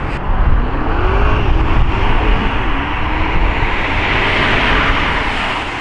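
A Porsche Panamera Turbo (970) engine plays loud and steady from up close, a dense roar with a slight rise and fall in pitch and no voices.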